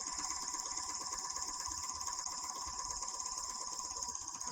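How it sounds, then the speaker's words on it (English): A Bernina 460 serger sews a rolled hem at high speed, giving a steady, continuous mechanical whir with a fast rattling pulse that stays close and even throughout, with no talking. "Luckily, the Bernina 460 sews really quickly."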